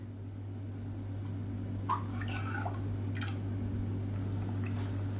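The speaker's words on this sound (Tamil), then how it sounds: "இப்போ பாருங்கள் நல்லா கொதிக்க ஆரம்பிச்சிருச்சு" Faint, sparse bubbling pops from a thick kulambu gravy simmering in a pot, set against a steady low electrical hum.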